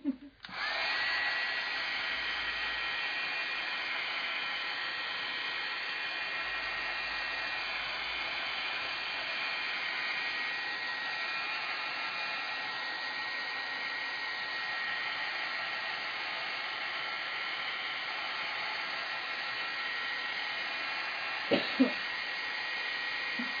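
An electric hair dryer blows steadily at close range over scrapbook craft paper, a constant loud whooshing drone that runs almost the whole time, with a couple of brief knocks near the end.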